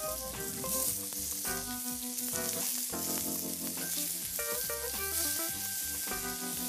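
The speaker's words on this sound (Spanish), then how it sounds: "Y sofreímos el resto de la carne." Pieces of wild boar meat sizzling in fresh oil at the bottom of a casserole, a soft steady frying hiss with stirring, partly covered by prominent melodic tones throughout.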